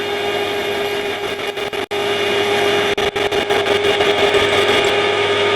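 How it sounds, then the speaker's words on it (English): A drill bit cutting metal on an EMCO lathe, chucked in the machine and cutting on both flutes: a steady, loud machining whine with a continuous motor hum and a couple of brief dips, no voices. "Well, at least it is cutting on both flutes."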